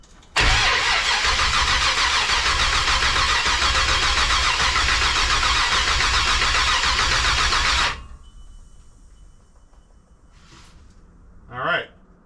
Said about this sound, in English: Let me see if I can get it to crank.